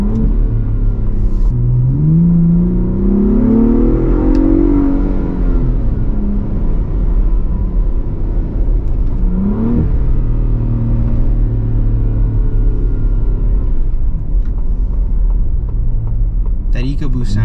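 A Ford Bronco Raptor's EcoBoost turbo engine revs with a low, grumbling rise and fall from inside the cabin, climbing in pitch and easing off twice under steady road rumble.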